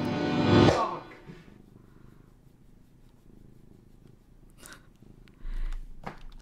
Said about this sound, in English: I'm hiding with my purring cat on my lap.